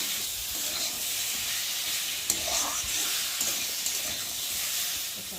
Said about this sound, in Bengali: ভালো করে ভেজে নেবো মশলাটা